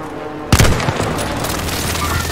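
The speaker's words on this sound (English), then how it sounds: "Alloy precision airstrike incoming." A precision airstrike in a shooter game lands with a sudden loud boom after a brief quiet moment, followed by a sustained rumbling, crackling roar of overlapping blasts.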